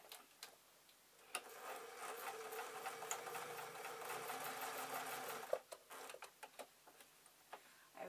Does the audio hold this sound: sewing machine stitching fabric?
yes